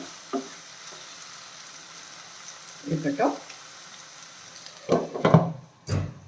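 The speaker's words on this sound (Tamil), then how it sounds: "நல்லா மிக்ஸ் பண்ணிடலாம்." Tomatoes being stirred and fried in a pan for tomato chutney, with a soft steady sizzle and several louder bursts of scraping and stirring near the end. A voice speaks briefly.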